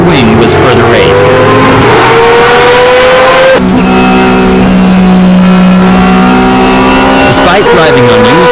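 A race car driven by Tsuchiya on used racing tires, rear damper stiffened and wing raised, screams through a fast lap, loud engine pitch climbing through gears and shifting, with a narrator talking over it.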